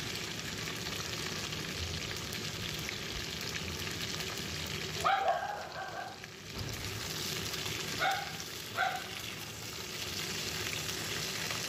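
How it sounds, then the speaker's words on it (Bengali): Vegetables and bori fry in oil over a bay leaf and whole cumin tempering, a steady close sizzle throughout, with a few brief louder crackles and stirring scrapes around the middle and later on. "সবজিগুলো একটু ভালো করে ফ্রাই করে নিচ্ছি"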